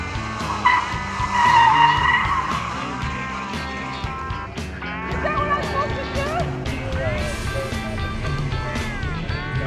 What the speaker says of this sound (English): I will be able to do a full spin out without flipping the car.